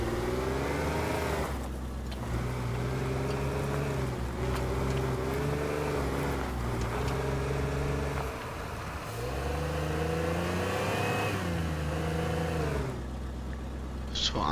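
A Jeep engine in the video game Teardown revs hard and continuously at full speed, its tone rising and falling in repeated surges, loud and close throughout.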